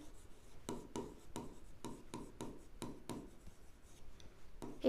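Pen or marker strokes on a board while a teacher solves linear equations in two variables in a class 9 algebra lesson: a steady series of short scratchy taps and rubs, close and clear, with no talk.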